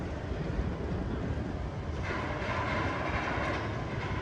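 A B&M floorless roller coaster, Dominator, roars along its track at Kings Dominion in Doswell, Virginia, a dense continuous rumble that swells midway as the train passes, heard from nearby without speech.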